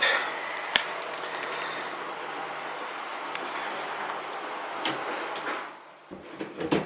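Someone indoors pulls a door shut to block washing machine noise. One sharp clack comes early, a second faint tap follows, and a steady background hiss continues until it drops away near the end.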